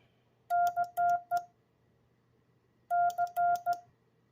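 A Morse code letter C sent on a paddle key, clean beeping tones in a dah-dit-dah-dit pattern, heard twice with a pause between, close and clear over a faint hum.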